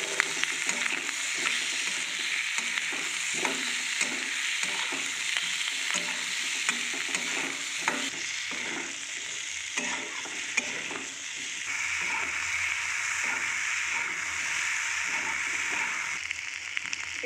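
Potatoes fry with turmeric paste in a pan for a duck egg devil. A continuous loud sizzle runs throughout, with frequent stirring and scraping that eases off partway through. No one speaks.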